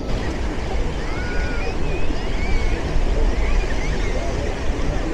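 Surf rolls onto the last strip of beach at Blackpool as the tide comes in, a loud, continuous wash of breaking waves with wind buffeting the microphone and faint crowd chatter underneath.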